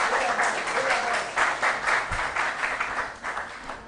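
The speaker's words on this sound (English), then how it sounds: "Round of applause," An audience applauds quiz contestants with dense, continuous clapping that swells and dips in waves, loud and close, with a few voices mixed in.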